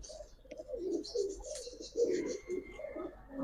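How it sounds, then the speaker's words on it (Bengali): Giribaz pigeons at a pigeon seller's loft coo in low, throaty bursts close by, several calls overlapping in uneven rhythm, with faint chirps and a thin whistle-like tone in the background. "আর এই যে ডাক দেখেন, আজকে কবুতরগুলো সবগুলো ডাকবো ভাই"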